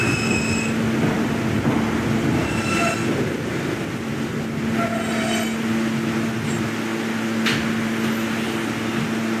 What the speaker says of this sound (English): This is a Kathleen bound K train.